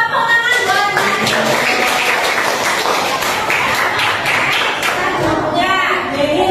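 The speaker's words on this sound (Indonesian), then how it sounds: "Tepuk tangan buat Mas." An audience in an Indonesian training session claps for Mas Denis after he answers a question, a dense burst of applause that stays loud throughout, with some voices mixed in underneath.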